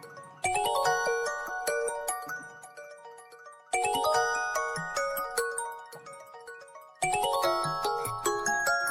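A new smartphone ringtone plays alone: bright, chiming melodic phrases that restart three times in a row, with a close, clear, steady volume and no talk over it.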